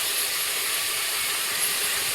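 Goat mutton sizzling as it is sautéed in a pan, a steady, fairly loud hiss that runs without a break, with no voices.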